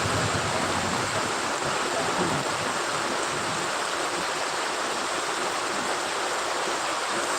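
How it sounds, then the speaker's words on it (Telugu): Heavy rain pours down in a dense, unbroken hiss near waterfalls in Udayagiri, steady and loud throughout, with no voices. "వర్షం అయితే బాగానే పడుతుంది"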